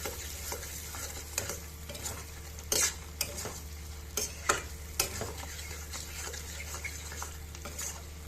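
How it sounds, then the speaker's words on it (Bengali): Chicken liver masala fries with yogurt added while a spoon stirs it quickly, a soft sizzle under irregular scrapes and metallic clinks against the pan, close by and without any talking. "টক দইটা দিয়ে তাড়াতাড়ি নাড়তে হবে"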